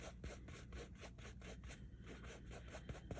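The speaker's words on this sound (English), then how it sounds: "now I'm going to use my paper towel and wipe off my finger" Paper towel rubbed over a paint-covered finger while working on an acrylic spring tree painting, giving a steady, close dry rubbing and scraping texture with repeated soft strokes and no talking.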